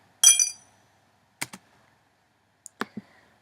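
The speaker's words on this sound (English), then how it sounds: "I recorded the sound of a set of keys rattling about in a glass cup" Bright metallic jingles and clinks ring out in a few separate bursts, like keys shaken and dropped against glass, with quiet gaps between.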